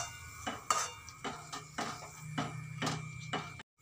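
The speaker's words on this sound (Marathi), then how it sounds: "आता परत एक वेळेस एकजीव छान करून घ्यायचा आहे" A ladle scrapes and clinks steadily in a kadhai as grainy besan halwa is stirred together with syrup and ghee, a regular rhythm of close metallic scraping strokes without any talk.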